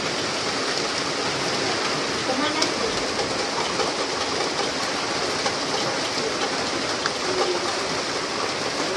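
Rain falls in a steady, dense hiss of close, loud, broadband patter that continues unbroken throughout.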